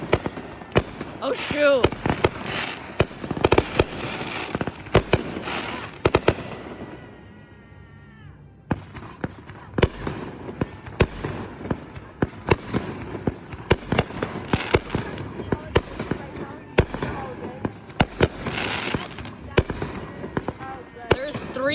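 Fireworks made of hard cardboard go off in dense, rapid crackling volleys of sharp bangs and pops, close and loud, with a short lull of fizzing before the barrage resumes, as people talk over it.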